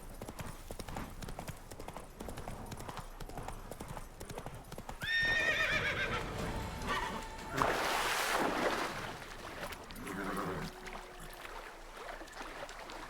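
Roach, the horse in The Witcher 3, walks with steady clip-clopping hooves, then gives a loud, rising whinny and snorts, against quieter game ambience with faint water sounds.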